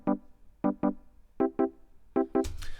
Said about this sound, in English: Electric keyboard sound like this.